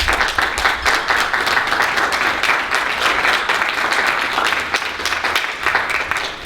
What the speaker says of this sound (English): Let's give them applause, please.